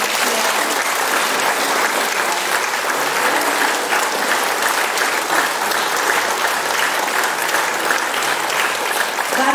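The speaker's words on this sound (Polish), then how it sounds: "gromkie, naprawdę gromkie oklaski." An audience at a seniors' folk song concert in Siedlce claps loudly and steadily, a dense, continuous wash of applause from many hands with no pause.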